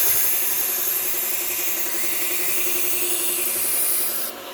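A Victorinox knife blade is rubbed steadily along an abrasive sharpening surface, producing a continuous, loud, even scraping hiss that holds for several seconds before easing off at the end, with no voices.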